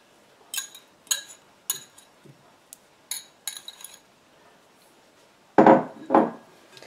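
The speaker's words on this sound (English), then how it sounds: "is mix our sugar and our butter together" Granulated sugar and butter mixed by hand in a bowl for a plum frangipane tart: several sharp clinks and knocks of a utensil against the bowl at irregular intervals, then a louder scraping, stirring burst near the end, close and without talk.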